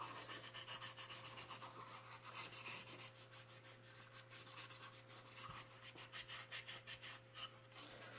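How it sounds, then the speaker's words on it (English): A 3M scour pad scuffs a surface before hydro dipping, giving a steady, close, rhythmic rubbing that continues back and forth for the whole stretch, faint overall, with a constant low hum underneath and no talking. "So you're just going to scruff it all up, make sure it's all scruffed everywhere"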